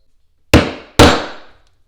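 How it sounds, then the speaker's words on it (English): Two solid hammer strikes land on a Barry King stamping tool pressed into leather, a sharp crack each with a short ringing decay, about half a second apart, loud and close with no talk. "2 good solid whacks."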